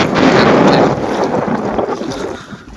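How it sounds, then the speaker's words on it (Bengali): Wind buffeting the microphone with waves lapping on a river during a morning outing checking china-jal fish traps, a loud rushing roar that gradually eases over a few seconds. "এই যে দেখেন নদীতে বাতাস আর ঢেউ"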